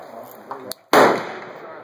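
Suppressed .22 AR15 rifle firing on full auto outdoors, a single sharp muffled crack with a brief burst tail, fairly close, set against quiet surrounding noise.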